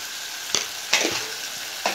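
Mutton curry sizzling in hot oil in a pan, with a steady frying hiss broken by a few scraping strokes of a spoon stirring the pieces.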